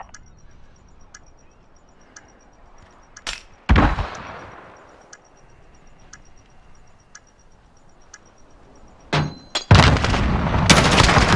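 Bomb planting and gunfire in Call of Duty: Modern Warfare: a steady ticking bomb timer runs throughout, with a sharp shot near the start, a louder blast-like burst in the middle, and heavy rapid gunfire closing the scene.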